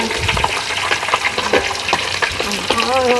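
A large sea fish frying in hot oil, with dense crackling sizzle and stirring clatter, loud and close, joined by a few brief scrapes and knocks.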